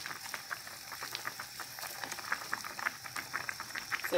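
A pot of Thai jungle curry with tilapia and fermented fish sauce bubbling at a rolling boil, soft close popping and gurgling in an uneven patter, quiet and steady with no talk.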